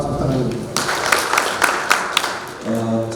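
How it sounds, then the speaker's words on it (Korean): Audience applause at a public hearing on a marine tourism promotion law, a burst of clapping that rises between stretches of speech, with talk before and after it. "박수 부탁드립니다."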